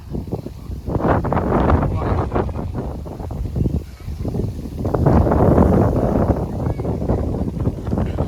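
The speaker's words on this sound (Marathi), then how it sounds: "उतरलो आणि मस्त वारा सुटला आहे" Strong wind blows outdoors in Hamrapur village, Pen, buffeting the microphone in loud, gusty roars that rise and fall throughout.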